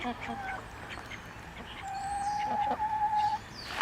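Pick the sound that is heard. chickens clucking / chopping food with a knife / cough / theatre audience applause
chickens clucking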